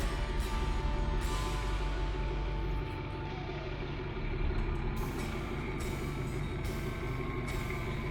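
A truck engine rumbles steadily as it pulls away, hauling a logging skidder and a ground saw on a trailer, with a low drone that stays fairly constant and more distant throughout.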